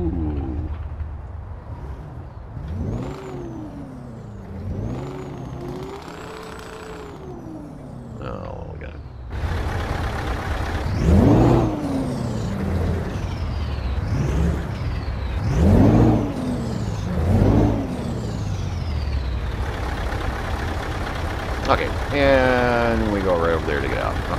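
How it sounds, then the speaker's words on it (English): A diesel truck engine in Euro Truck Simulator 2 cranks over and settles into a steady low rumble, with hisses and mechanical whirs on top. Idle and revving swells are heard nearby, and someone talks during it. "Start the engine up."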